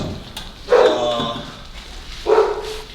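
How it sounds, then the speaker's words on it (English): A dog barks twice, a couple of seconds apart, somewhat distant in the background of a home gym. "You can hear my dog in the background."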